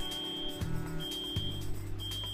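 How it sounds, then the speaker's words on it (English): A repeating electronic alarm from the audio alarm device in the video game Rust, a steady high-pitched tone pulsing on and off in roughly one-second bursts over low thumping background game sounds. "the new audio alarm."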